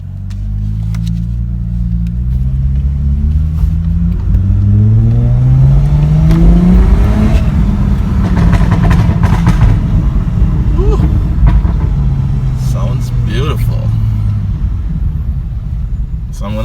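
A Lexus IS250 on the road after a spark plug replacement, its engine rising and falling through repeated revs as it accelerates and shifts, loud and close inside the cabin, with a person talking over it at times.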